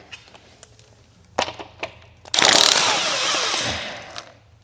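A power tool whirs loose the top nut on a Suzuki GSX-R750 race bike, a loud burst of about two seconds that follows a few sharp clicks and knocks of handling.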